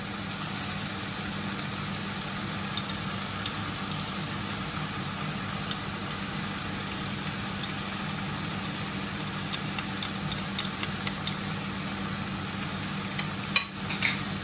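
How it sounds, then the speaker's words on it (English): Worcestershire sauce stirred into mushrooms sizzling in a pan, a steady frying hiss with a low background hum and faint scrapes of stirring, ending in a brief clatter near the end; no talking. "the next step is to add the Worcestershire sauce and give it a quick stir around"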